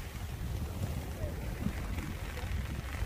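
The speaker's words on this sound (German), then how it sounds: "Es ist windig, ich hoffe, man versteht mich." Wind buffeting a microphone outdoors at a lookout with distant mountains, a steady low rumbling roar that runs throughout, with a voice speaking under it.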